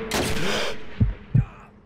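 Two heavy gunshots in Call of Duty 2 boom low and close, spaced about a third of a second apart, following a brief noisy rush and fading into quiet.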